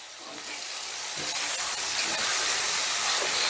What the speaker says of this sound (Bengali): গ্যাসের আঁচটা মিডিয়ামে রেখে পেঁয়াজটাকে আমি ভেজে নেব